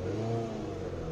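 A slightly cold Tata Indica V2 car engine hums and revs in heavy traffic near road construction, a steady mid-pitched drone up close.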